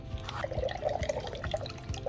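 Black fabric dye pours from a bottle into a container of water, giving a soft, steady gurgling and trickling splash with light drips, close by and alone.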